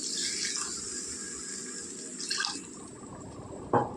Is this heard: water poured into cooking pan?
yes